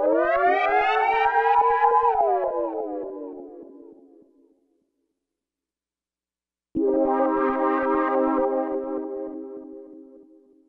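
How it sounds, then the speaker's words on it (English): A synthesizer note driven by an auxiliary envelope, its harmonic tone gliding slowly up in pitch, holding, then sinking back down as the release fades out; after a pause, a second sustained note plays steadily and tapers away. "The pitch has a very slow rise to get to the proper pitch, and then I let go and then it pitches down all the way back again"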